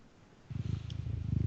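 A person imitates a cat purring directly into a microphone, a low fluttering rumble that starts after a brief quiet moment and continues in close, pulsing waves.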